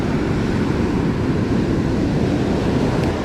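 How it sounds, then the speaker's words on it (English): Rough Southern California surf crashing onto the beach, a steady loud wash of breaking waves with continuous churning roar and wind buffeting the microphone, no voices. "Look at these waves, dude."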